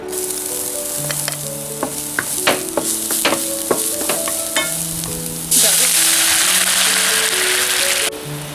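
Chopped scallions and shrimp sizzling in hot oil in a wok while a spatula stirs them, with scraping taps and a loud burst of frying that holds steady for a few seconds before easing off.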